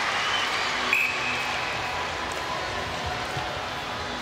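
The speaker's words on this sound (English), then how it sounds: "You can hear the cheer as the Swifts take the lead." A netball crowd at a Swifts versus Lightning Super Netball match cheers as the Swifts take the lead, a broad, distant roar of voices and clapping that stays steady throughout.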